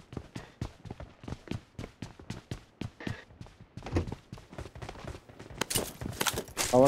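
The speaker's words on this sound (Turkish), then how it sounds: "Arkamdan önümden sıkıyor adam." Gunfire from the mobile shooter PUBG Mobile crackles in rapid repeated shots and short bursts, ending in a louder, denser volley.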